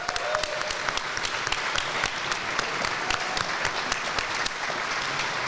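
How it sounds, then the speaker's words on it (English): Applause from a group of guests at a BMW dealership venue, Vines of Gatwick, steady dense clapping close by, with no voices standing out. "Give yourselves a round of applause."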